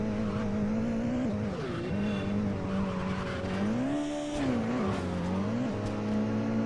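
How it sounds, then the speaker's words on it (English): In the Midnight Club 2 racing video game, a car engine whines and shifts pitch while its tires squeal and skid through a turn, a continuous, loud, close stream of engine tone and screeching. "still crashing with this car because it won't turn"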